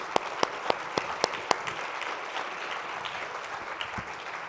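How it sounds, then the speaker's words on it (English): An audience at a schools and communities event applauds as guests walk up to the stage: a few sharp, distinct claps at first, then a steady wash of moderately faint clapping across the room, with no speech. "why don't we get a round of applause for them as they come on up"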